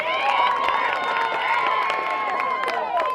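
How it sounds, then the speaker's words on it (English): A crowd at a varsity high school soccer game between Lincoln Railers and Mount Zion Braves cheers and shouts continuously, with whistles and claps breaking through a loud, sustained roar, and a voice talking over it. "Crowd really getting into it now."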